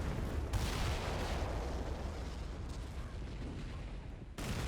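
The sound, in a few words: battleship guns firing in Men of War Assault Squad video game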